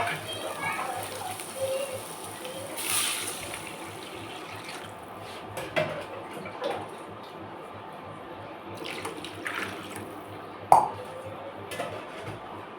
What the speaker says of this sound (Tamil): தண்ணி ஊற்றிடலாம் தேவையான அளவு.